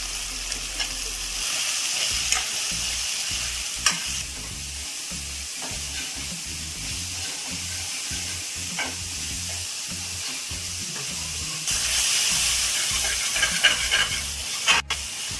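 Sliced ridge gourd with onion and softened tomato sizzles steadily in a hot pan, stirred with frequent scraping knocks, a continuous close frying hiss that swells louder near the end.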